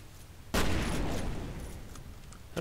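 A single loud burst of gunfire from the shooter game F.E.A.R. erupts suddenly, then decays over about two seconds, and a second blast starts just as it fades.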